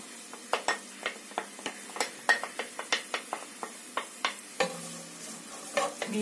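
Onion sautéing in a pot for chicken soup, with a spoon scraping and tapping the pot in quick irregular strokes over a faint steady sizzle.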